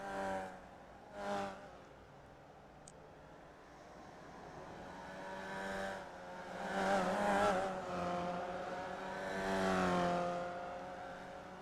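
iRacing race cars in the TNT Promotions Free Vee Series, engines rising and falling in pitch as cars accelerate and pass, several overlapping engine notes swelling from moderate to loud, no talk.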